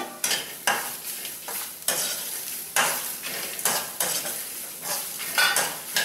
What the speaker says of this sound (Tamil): தேங்காய் பூ போட்டு ரொம்ப வதக்க தேவையில்லை